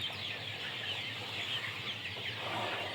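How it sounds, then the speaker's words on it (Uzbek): Chickens and big roosters on a poultry farm fill the air with steady, fairly distant clucking and calls, a continuous low-level flock chatter with no talking. "Katta xo'rozlari ham bor, qichqirib qolgan"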